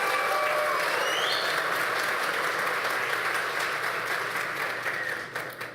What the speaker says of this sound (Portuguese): Uma salva de palmas para o Grupo AME